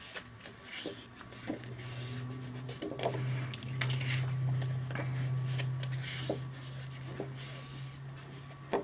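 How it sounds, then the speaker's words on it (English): Cardstock being scored at a half inch on a scoring board, a soft steady scraping drag with a low mechanical hum and a few small clicks and taps, close and quiet, with no talking. "So put the shorter side and then score at a 1/2 inch."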